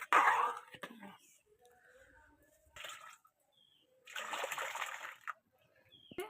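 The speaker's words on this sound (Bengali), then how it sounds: "আমি এবার পরিমাণ মতো জল দিয়ে দেব।" Water is poured into a pot of cooking lentils made from mature bean seeds, giving short splashing bursts with quiet talk in between.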